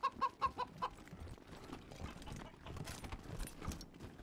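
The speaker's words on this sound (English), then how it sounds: "A chicken inside the server room." A chicken inside a server room in the video game Wasteland 3 gives a quick burst of several sharp clucks at the start, then fades under a low, busy background.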